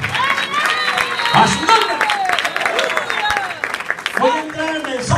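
Church congregation clapping an offering of applause, a dense ongoing patter of many hands mixed with crowd noise, with a voice talking over it.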